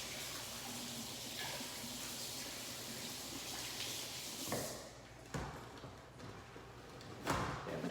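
Tap water running in a kitchen sink as sticky hands are rinsed after handling bagel dough; a quiet, steady rush broken by a few splashes and soft thumps.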